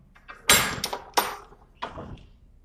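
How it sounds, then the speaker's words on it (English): An interior door being shut, heard as a few close knocks and bumps of the door and latch, with a last softer thud after a short pause, in a quiet room. "Let me close this door."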